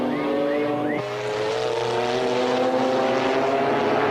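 Number 1 Gulf McLaren GT race car at the 1995 BPR Global GT round at Jerez pulls into the pits, its engine droning loud and steady with a pitch that shifts down then holds, no talk over it.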